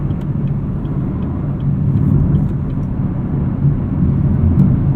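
Steady low road rumble and wind noise fill the cabin of a 2018 Chevrolet Camaro 2SS with a six-speed manual and run-flat tires, a continuous broadband drone at even loudness with no talking.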